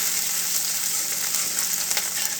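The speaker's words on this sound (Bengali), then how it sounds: "রসুনটা একটু ফ্রাই করে নেবে ভালো করে" Garlic, bay leaves, and dried and green chillies crackle in hot oil with a bright, even hiss. A few light pops stand out above the frying.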